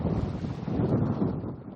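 Strong wind buffets the microphone with a steady low roar over waves at sea off Santa Catalina, Negros Oriental, as a waterspout forms; continuous and loud throughout, with no talking.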